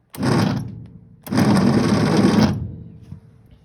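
A starter motor cranks in two short, harsh whirring bursts separated by a brief pause, loud and close.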